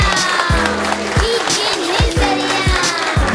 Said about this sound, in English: So everybody give Team a round of applause.